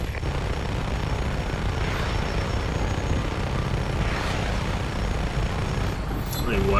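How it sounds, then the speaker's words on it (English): A helicopter in the video game Just Cause drones steadily throughout, a continuous rotor and engine rumble that holds fairly loud and even, with a faint rising whine near the end. "Is that a Bavarian chopper?"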